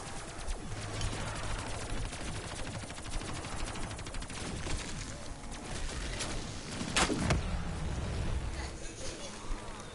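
Gunfire in a PS4 video game: steady automatic shooting rattles throughout, with one sharp, louder crack partway through and a dense background of game noise.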